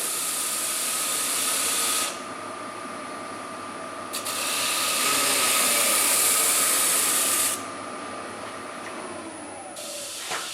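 A wooden bowl being sanded with The Sanding Solution, a loud continuous abrasive hiss that shifts in intensity as pressure changes, with no talking.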